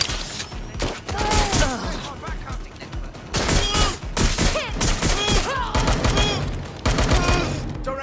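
Rapid bursts of gunfire in a Watch Dogs: Legion firefight, dense and loud, with overlapping shots and short pauses throughout, mixed with game sound effects and voices.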